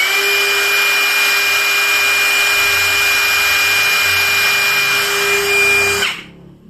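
A BULL brushless trimmer runs at speed setting 5 with a steady, loud, high-pitched motor whine that holds constant for about six seconds, then cuts off abruptly.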